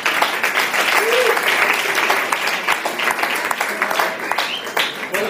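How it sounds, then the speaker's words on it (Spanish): Enthusiastic audience applause in a bar during a jazz concert, loud dense clapping sustained throughout with crowd voices and cheers mixed in. "un aplauso para él"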